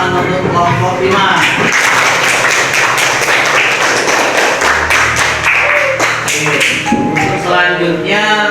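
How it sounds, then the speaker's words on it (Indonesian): Classroom applause for a student group after a presentation, a dense wash of clapping hands sustained across the whole stretch, with a teacher's voice speaking over it near the start. "kasih tepuk tangan untuk kelompok 5"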